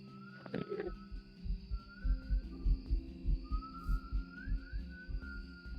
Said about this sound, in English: It might have been the Enderman because I'm hearing like heartbeats.